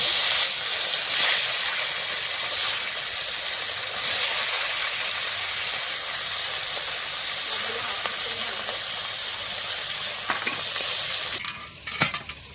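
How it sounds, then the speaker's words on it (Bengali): Fish fries in mustard oil in a wok, a loud, continuous hissing sizzle heard up close, with a few sharp clinks and knocks near the end. "কড়াইতে আমি মাছ ভাজার জন্য সরষের তেল দিয়ে দিয়েছি। মাছগুলো ভেজে নেব।"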